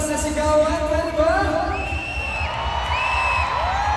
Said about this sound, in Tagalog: pwede ba namin ngayong marinig ng isang malakas na sigawan?